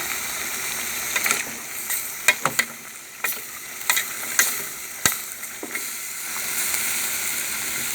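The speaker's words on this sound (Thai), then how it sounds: "แล้วก็ผัดให้เข้ากัน" Pork in red curry paste stir-fries with long beans and kaffir lime leaves, a steady sizzle from the pan punctuated by repeated clanks and scrapes of a spatula tossing the mixture.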